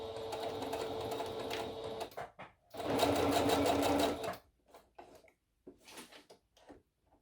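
A sewing machine runs back stitches on a face mask in two steady whirring bursts, close and clear, followed by quieter handling clicks and rustles.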